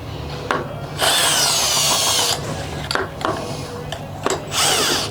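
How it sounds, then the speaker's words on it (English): A power drill whirs loudly in several bursts, stopping and starting, driving an engine's oil pump, with a high grinding whine close to the microphone. "I'm just operating the oil pump with this drill"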